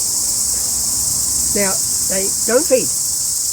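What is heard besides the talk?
chorus of male cicadas calling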